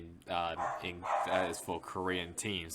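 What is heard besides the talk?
dogs barking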